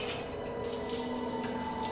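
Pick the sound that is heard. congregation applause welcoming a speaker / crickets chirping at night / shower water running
shower water running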